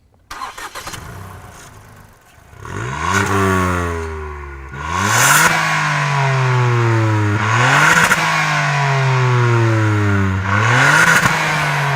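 The 1.5-litre three-cylinder turbocharged engine of a Ford Fiesta ST starts and then revs hard several times, each rise climbing and falling back in turn. It is loud and close, with no voices over it.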